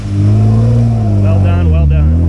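A Jeep engine revs steadily as it creeps up a tall off-road obstacle, a close, loud drone that rises in pitch, with a voice speaking over it.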